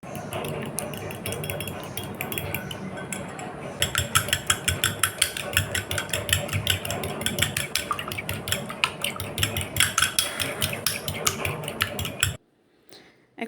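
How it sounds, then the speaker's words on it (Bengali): An egg being beaten hard in a bowl: rapid, rhythmic clinking of a utensil against the bowl, close and continuous for about twelve seconds before stopping. "একটা ডিম ভালো করে ফেটিয়ে নিচ্ছি"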